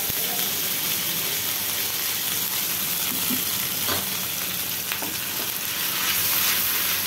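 Ginger-garlic paste and ground spice paste cooking down in hot oil for Hyderabadi katla fish curry, a constant sizzle under repeated spoon stirring and scraping, close and steady, no talking.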